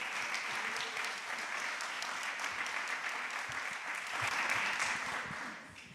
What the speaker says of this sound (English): Another round of applause for this panel.